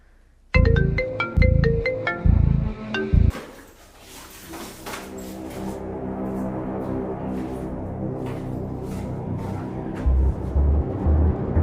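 A phone ringtone plays a repeating electronic melody in bursts, loud and close, then gives way to a lower, sustained tonal passage as the ringing continues.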